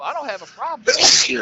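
A sneeze bursts out loudly near the end, right after a stretch of conversational speech, standing out as one sharp, noisy exhalation.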